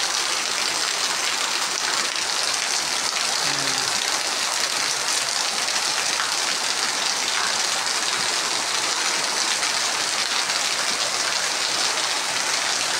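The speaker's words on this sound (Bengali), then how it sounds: "বৃষ্টি হইতেছে," Steady, dense rain pattering on a tin roof, continuous and even throughout, with no voices.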